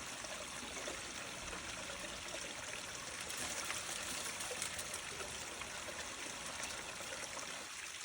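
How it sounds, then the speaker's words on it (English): Water flowing steadily across a power sluice mat in a continuous rushing wash, even and unbroken, with no voices. "So as the water moves across the mat, it goes into suspension"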